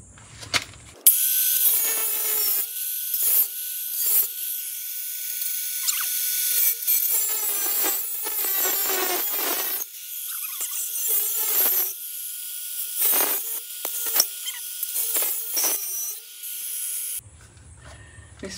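Cutoff wheel cutting into a rusted VW bus frame, a harsh high metallic whine in short bursts, little bites with brief pauses, close and loud throughout.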